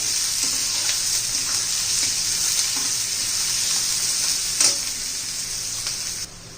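Chopped onion sautés in a hot pan for a spicy village-style eggplant curry, giving a steady, close sizzle throughout with a brief clatter of stirring near the end and no voices.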